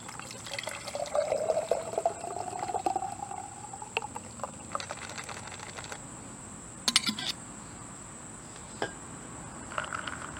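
Cold juice drink pours into a cup, a soft rising trickle near the mic, followed by faint clinks and small taps.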